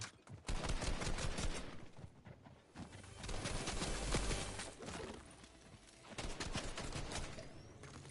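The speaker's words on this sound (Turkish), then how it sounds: "Tamam silah sesi duyuyorum ama görüntü çıkmadı garip bir şekilde" Gunfire in the game Fortnite crackles in rapid bursts and scattered single shots across a busy, noisy mix, fairly faint overall with dense clatter between shots.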